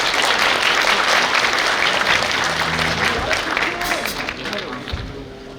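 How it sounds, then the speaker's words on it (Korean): Loud audience applause at a high school graduation ceremony, thick sustained clapping that gradually thins and fades toward the end, with a few faint crowd sounds and murmurs underneath. "많은 박수 부탁드립니다."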